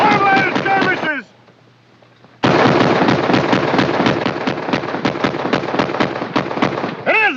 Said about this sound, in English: It is a Gatling gun!